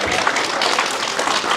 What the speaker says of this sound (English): Can we get a big round of applause and a welcome to Mrs. Smith?